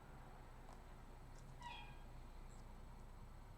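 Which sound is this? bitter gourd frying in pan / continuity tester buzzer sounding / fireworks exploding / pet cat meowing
pet cat meowing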